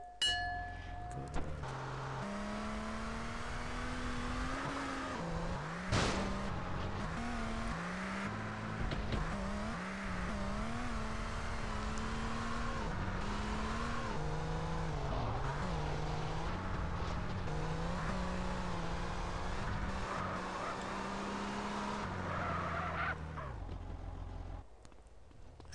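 A car engine in the multiplayer video game GTA San Andreas runs loud and steady for about 25 seconds, its pitch rising and falling with repeated revving and gear shifts before it cuts off near the end.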